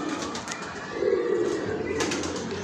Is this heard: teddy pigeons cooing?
yes